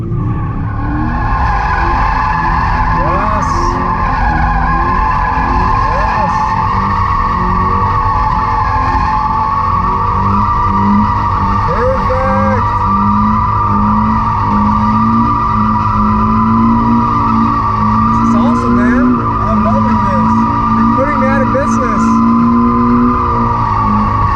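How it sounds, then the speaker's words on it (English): A Toyota GT86 drifting, its tires squealing in loud, sustained wavering howls over a steadily revving engine, with the car close by throughout. "From drifting a GT86 to trying out the new Supra."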